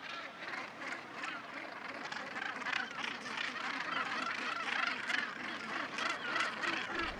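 Dense, continuous calling of a huge gannet colony at its nesting site on Small Skellig, a rocky seabird reserve off Ireland holding about 24,000 pairs; overlapping harsh cries form a steady, loud wall of sound with no talk.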